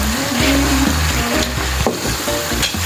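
Meat sizzles and fries in a pan, toasted for Filipino shrimp paste (bagoong), with steady crackling hiss and occasional stirring scrapes throughout, close and loud.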